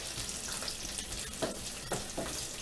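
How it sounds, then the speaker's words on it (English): Small pieces of ginger sautéing in a pan for a cashew curry, a soft continuous frying hiss with a few faint stirring taps, quiet and close with no voices. "And then just keep on sauteing or frying it."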